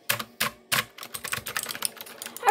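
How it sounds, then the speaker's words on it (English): Keys clack on a new computer keyboard with extra buttons, three loud spaced strokes followed by a quicker run of lighter taps, close up with no one talking. "I got a new keyboard."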